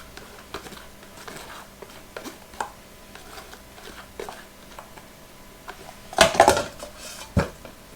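Spinach goes into a homemade spinach artichoke dip and gets mixed in a bowl: scattered close clinks and taps of a utensil against the dish, with a louder clattering flurry near the end and no talk.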